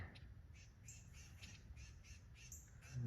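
A bird near a feeder with a snake climbing it squawks in harsh, repeated calls, about eight bursts at a steady rhythm, fairly close over a low outdoor background.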